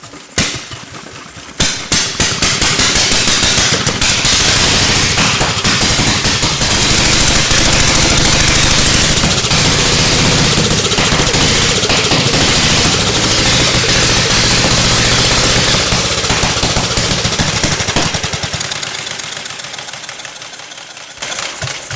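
An antique Indian board track racer motorcycle engine fires up and runs: a loud, harsh, close roar that holds steady for most of the stretch, then fades toward the end.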